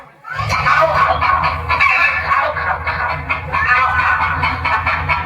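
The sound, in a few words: chickens clucking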